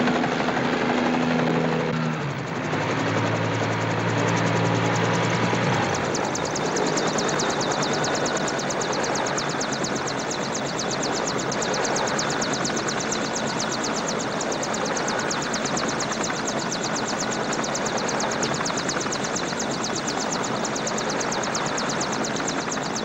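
An executive charter aircraft lands at a trade center as a loud, continuous rotor-like engine roar dominates from nearby. A brief tonal signal sounds at the start, and the roar then holds steady for the rest.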